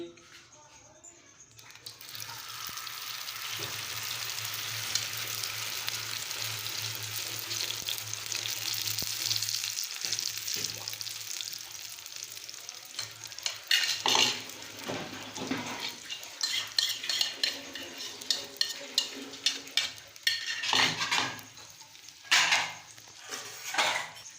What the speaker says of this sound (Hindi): अभी हम जो हमने आमलेट का सामान तैयार किया वो डालेंगे।